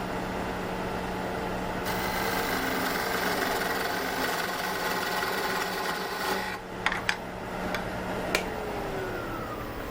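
A lathe running steadily while making a parting cut on a collet handle to fit a ferrule, a continuous mechanical hum and whine with a few sharp clicks near the end.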